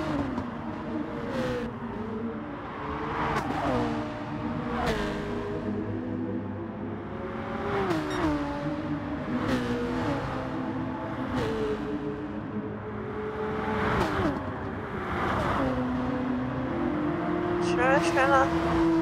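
GR.3 race cars in Gran Turismo Sport lap the Tokyo Expressway Central Outer Loop in an endurance race. Engines rise and fall in repeated revving surges with gear shifts, a continuous loud drone.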